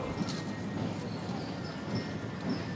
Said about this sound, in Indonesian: sayup-sayup kita dengar derap langkah kuda memasuki gerbang Istana Merdeka